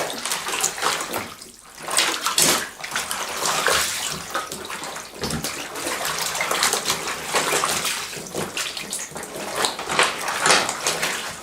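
Latex coated in silicone lube is dragged through a tub of water, making continuous close splashing and sloshing with uneven surges for about eleven seconds.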